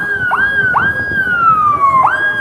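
An ambulance siren pushing through a crowded street during Turkish election-night celebrations, loud and close, with sharp upward yelps followed by long, slowly falling tones over a crowd murmur.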